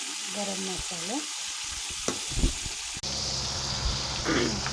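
Ginger paste frying in a pan with steady, close sizzling throughout, broken by a few brief clinks and stirring scrapes; a short voice-like murmur sits early on under the hiss.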